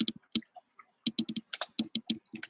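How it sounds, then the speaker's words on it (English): Quick bursts of keyboard typing, a run of sharp clicks in irregular clusters with short pauses between them, close and fairly quiet, with no talking. "I'm typing again."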